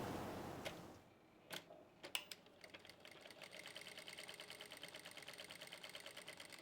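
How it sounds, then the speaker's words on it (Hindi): Sewing machine joining fabric strips for round piping, starting after a few handling knocks and then running steadily with a fast, even stitching rattle, close but fairly quiet. "जब हम इसको जोड़ेंगे, दूसरी पट्टी को जोड़ेंगे तो ऐसे रखेंगे और यहाँ से सिलाई लगा लेंगे"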